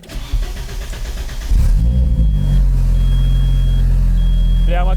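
A restored Audi S4 engine starts and rumbles as the car pulls away on its first test drive, a loud low drone rising after a brief crank, with faint whines and a high chirp on top.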